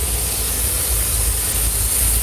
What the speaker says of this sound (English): now we can see the GOCLEAN Steam is opening